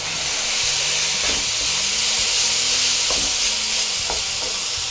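Garlic sizzles loudly in a wok for a Chinese stir fry, a steady bright frying hiss with occasional stirring scrapes and clinks of the utensil against the pan, no voices.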